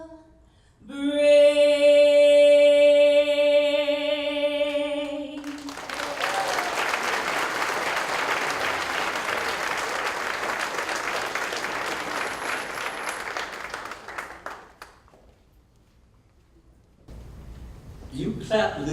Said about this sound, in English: You clapped a little too soon.